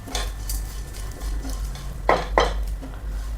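Utensil stirring onions in oil in a pan, with a steady low hum beneath occasional metal scrapes and two louder clatters of spoon on the pan, no voices.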